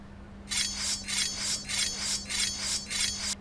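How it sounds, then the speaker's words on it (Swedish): A knife being sharpened, with about six even, rhythmic rasping strokes, close and clear over a low steady hum, with no talking. "Min kniv behöver slipas."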